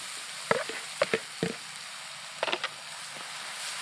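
Butter garlic Maggi noodles tossed in a sizzling pan, with a steady hiss of frying broken by several sharp scraping and clinking strokes of the spoon, close and fairly quiet.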